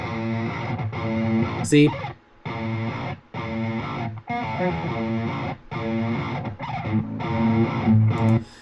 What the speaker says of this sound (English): That is the tone from the quad Cortex going into Logic Pro via the USB.